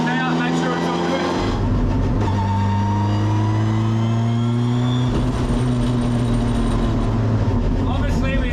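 A Nissan S14 Silvia with an SR22VET engine driving a test lap on old semi-slick tyres, its engine droning loudly from inside the cabin, pitch climbing and dropping through gear changes, with a voice talking over it.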